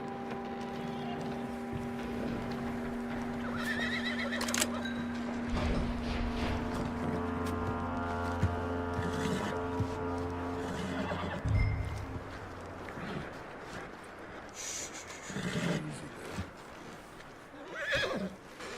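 A horse whinnies with a long wavering neigh amid hoofbeats and background rumble in the video game Red Dead Redemption 2, followed by further snorts and movement.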